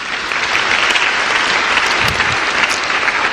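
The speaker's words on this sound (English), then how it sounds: "That's a place to clap for the Lord." A church congregation claps together in loud, sustained applause, a thick wash of many hands that holds steady through the whole stretch.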